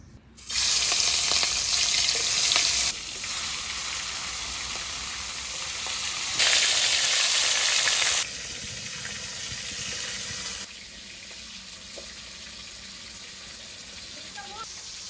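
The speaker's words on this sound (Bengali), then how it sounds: "গরম হয়ে গেছে, কাঁকড়াগুলো ভেজে নেব।" Crabs fry in hot mustard oil in a kadai, a loud bursting sizzle that flares strongly twice and then settles to a steadier, quieter crackle.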